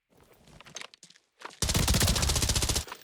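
Automatic gunfire from a weapon loaded with 995 rounds in Arena Breakout Infinite, a dense sustained burst of rapid shots following a few scattered quieter noises and a short pause.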